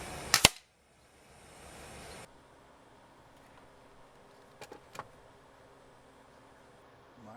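A vintage Crosman 760 pump air rifle fires one sharp, loud crack at close range outdoors in a backyard, followed by a brief hiss and quiet ambient noise with a few faint distant knocks.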